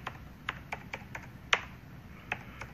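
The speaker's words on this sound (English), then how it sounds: "Go over here to your computer and type in sacred geometry." Typing on a computer keyboard: a short burst of light, irregular key clicks, one sharper tap in the middle, close and alone over faint background hum.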